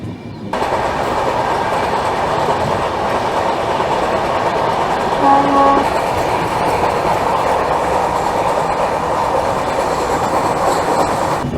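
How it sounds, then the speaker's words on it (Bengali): A passenger express train pulls out of a station on the Siliguri to Kolkata line, a loud continuous rumble and rattle of railcars passing close by, with a brief whistle-like tone midway. "এই আমাদের ট্রেন ডিপার্ট করছে"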